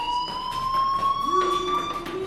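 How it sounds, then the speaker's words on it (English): A school fire alarm in the Life is Strange game sounds a loud, steady electronic tone, pulsing with a repeated beeping rhythm as a second lower tone joins partway through. "do you hear that fire alarm?"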